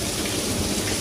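Dense, heavy downpour during a violent rainstorm in Windsor, Ontario, a loud continuous hiss of rain hammering surfaces at close range, with no voices and no distinct thunderclap in this short stretch.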